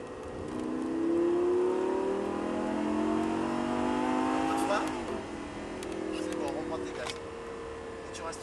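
On a driving circuit, a car's engine holds high revs down a straight and then eases off, droning loud and close inside the cabin while an instructor talks over it.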